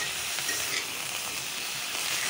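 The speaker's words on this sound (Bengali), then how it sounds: "তাই কফি আর মূলাগুলি ভাজতেছি।" Cabbage and radish frying in a hot pan give a loud, steady sizzle and hiss that holds without a break from start to finish, with no voices over it.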